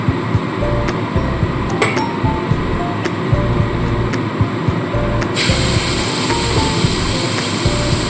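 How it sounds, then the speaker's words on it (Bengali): Grated carrot fries in ghee for carrot halwa, a loud, steady, close hiss running throughout, dotted with occasional light clinks of a utensil against the pan. "ঘিয়ের মধ্যে গাজরটাকে খুব ভালো করে একটু ভেজে নিতে হবে"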